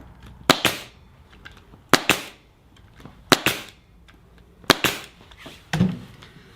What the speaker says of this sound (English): And then I just staple in place.